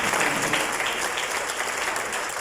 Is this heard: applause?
yes